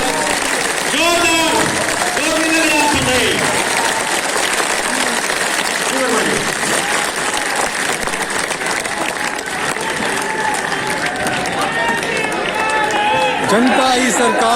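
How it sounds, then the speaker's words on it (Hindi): Loud, sustained applause fills a large indoor crowd at an education seminar in Talkatora Stadium, Delhi, with an amplified voice and cheers rising over the dense clapping throughout. "आपको भी खड़े होकर के हाथ उठा के जोरदार तालियां"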